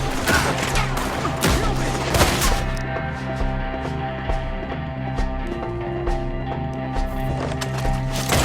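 Gunfire crackles in the Red Dead Redemption 2 video game as a rapid fusillade of loud shots that thins into sparser single reports, with horse hooves clip-clopping and faint voices beneath.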